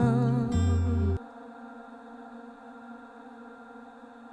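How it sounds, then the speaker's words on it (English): SSL Plateverb plate reverb with its freeze engaged: a held, tonal wash keeps sustaining evenly after the dry sound stops abruptly, ringing on steadily without decay. "This is going to freeze the reverb in place"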